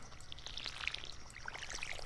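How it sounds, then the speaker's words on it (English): Water poured from a watering can over crops in Stardew Valley, a light continuous trickle and splash with small bright droplet ticks, steady and moderately faint throughout. "we're gonna water everything"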